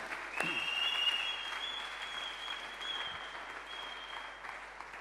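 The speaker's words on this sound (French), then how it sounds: "Clap your hand for Jesus Christ." A church congregation claps for Jesus Christ in steady applause that stays fairly soft and distant, with a sustained tone over it from the sound system.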